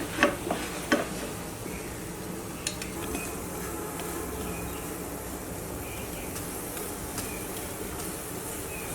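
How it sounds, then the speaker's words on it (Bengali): Aloo paratha frying in oil in a pan, a steady sizzle that runs through the whole stretch, with a few spatula or pan knocks near the start and no talking. "আমি এখানে তেল দিয়ে ভেজে নিলাম, লাল লাল করে ভেজে নেব।"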